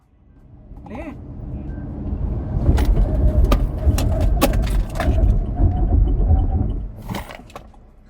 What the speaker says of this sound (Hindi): इमरजेंसी ब्रेकिंग मैं आपको करके दिखाने वाला हूँ